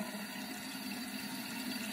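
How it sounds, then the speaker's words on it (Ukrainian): After a facial massage, water runs and splashes as a face is washed, a soft continuous trickle and gurgle at moderate level with no talking. "Після масажу обличчя вмиваємося тепер водою."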